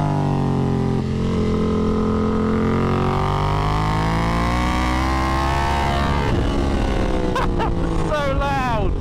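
A BMW F900 R Cup race motorcycle screams along a track with loud engine roar, its pitch sweeping up through the gears and dropping as it blasts past close by, followed by sharp rising revs near the end.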